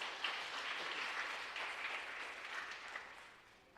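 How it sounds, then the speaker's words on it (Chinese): A church congregation applauds to welcome a speaker, steady crowd clapping heard from a distance that stays even and slowly fades toward the end. "我们拍手欢迎他，谢谢。"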